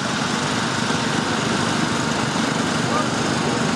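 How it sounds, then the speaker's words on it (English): John Deere tractor pulling a stoneboat at a county fair pull, a continuous high-revving engine drone at full throttle, steady and loud, with crowd noise and announcer talk faintly underneath. "Let's see what he can do with this JD tractor."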